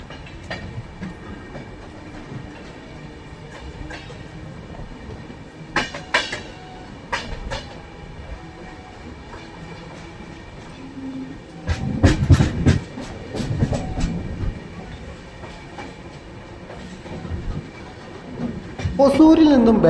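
A passenger train runs along a single-line track between Hosur and Bangalore near Karmelaram station, a steady low rumble with scattered clicks and clatter of wheels over rail joints, swelling louder in bursts, with a voice talking over it.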